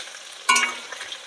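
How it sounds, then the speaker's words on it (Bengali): Pointed gourd pieces hit hot white cooking oil with one sudden sharp sizzle that flares up close, then quickly fades to a low crackle. "আমি পটলটা আগে এমনি সাদা তেলে ভালো করে লাল করে ভেজে নেব"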